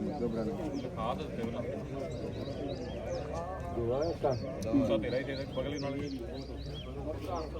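Pigeons coo softly in repeated low throaty calls, mixed with people talking nearby and some shuffling background noise.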